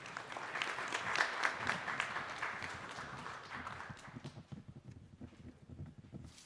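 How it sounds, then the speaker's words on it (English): A town meeting audience claps right after an oath of office, a crowd of hands in steady, fairly close applause that gradually thins and fades toward the end, with no talk. "Now you can clap."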